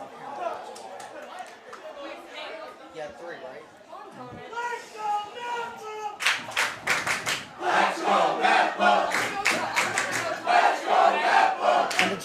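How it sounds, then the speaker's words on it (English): A crowd in the stands at a boys soccer match between Mepham and MacArthur starts a loud, rhythmic chant, with many voices shouting together over general crowd noise and a few sharp bursts. "And the chant has started in the crowd."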